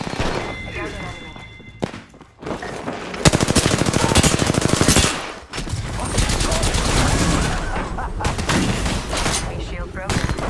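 Video game machine-gun fire in rapid sustained bursts, loud and close, with short pauses between volleys and a player talking over the shooting.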